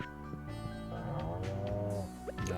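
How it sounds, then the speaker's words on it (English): A cow moos in the Stardew Valley farming game, a drawn-out lowing call over a steady bed of game music, close and moderately loud with no talking. "Ah, yes, moo to you too."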